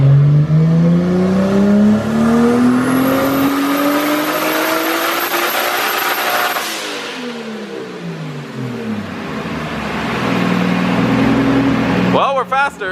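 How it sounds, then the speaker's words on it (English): A turbocharged Toyota Supra on a dyno at 26 psi of boost makes a full-throttle pull, engine note climbing steadily to a high sustained scream before dropping back, with turbo whine and a voice talking over it. "He's gonna do his first full pull right here at 26 pounds of boost."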